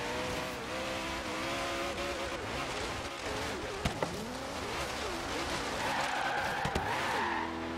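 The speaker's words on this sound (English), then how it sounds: "a little bit of drifting action going there" A Mazda RX7 drifting in Forza Horizon 3, with continuous tire squeal and engine note wavering as the car slides, loud and steady throughout with brief sharper bursts near the middle and end.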